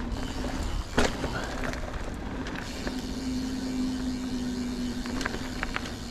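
A 2021 Vitus Sentier 29 hardtail mountain bike rolling along a trail on tires at 23 and 25 psi, a steady close tire rumble with wind noise and a few sharp knocks, and a faint voice in the background.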